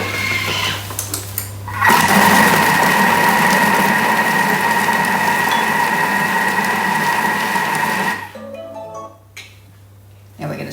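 A Thermomix blends bacon and cranberry jam at speed 4 with the lid and measuring cup in place, a loud steady motor whir running about six seconds before cutting off, followed by quieter clatter.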